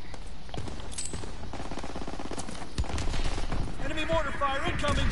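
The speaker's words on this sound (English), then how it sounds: "Enemy mortar fire incoming." Call of Duty gunfire rattles steadily, mixing rapid automatic bursts with heavier thumps in a dense, continuous battle soundscape, and a voice speaks briefly partway through.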